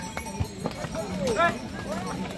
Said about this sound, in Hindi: देखिए बीच बीच रास्ते में घोड़े लेके चल रहे हैं